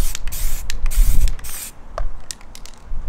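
Short bursts of spray paint hiss onto a plastic bumper grill, several quick close blasts with brief pauses between, the first one longer and louder than the rest.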